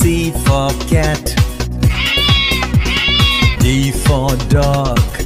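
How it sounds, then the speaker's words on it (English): A cat meows loudly again and again over a rhythmic musical backing in a children's alphabet song, the cries close and prominent. "C for Cat."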